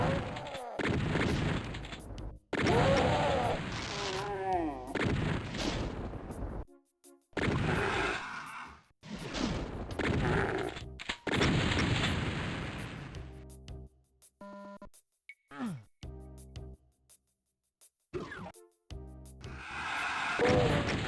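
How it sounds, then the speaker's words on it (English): Explosions and gunfire crackle through the raytraced DOOM game, loud bursts and booms arriving in uneven clusters separated by short quiet gaps. "It's causing an explosion."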